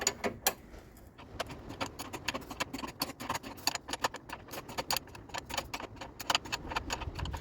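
Allen key and 17 mm open-end wrench tightening a nut on a van's steering knuckle suspension joint: a run of small metallic clicks and taps at close range, irregular in rhythm, with no voices.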